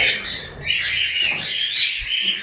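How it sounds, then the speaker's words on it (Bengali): Many small birds chirp and twitter at once, a dense, continuous high-pitched chatter close by. "এইখানে আমার প্রায় উনত্রিশ পিস মতো হচ্ছে লাভবার্ড আছে"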